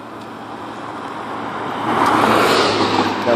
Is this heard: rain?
no